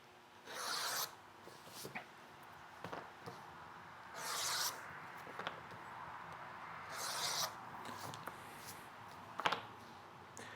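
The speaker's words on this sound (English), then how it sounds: "Now you notice on these pieces, I'm beveling the top and the bottom" Leather pieces being beveled along top and bottom edges in a leather shop: repeated scraping, rasping strokes in short bursts, fairly close and moderately quiet, with no talking.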